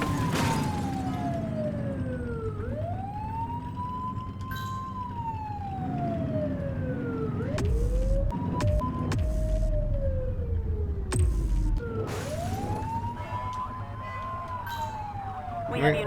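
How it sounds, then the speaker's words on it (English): A police car siren in the video game The Precinct wails in long rising and falling sweeps, loud and continuous with a brief yelp burst in the middle, while someone talks over it. "Get behind them and flip the siren to make them pull over."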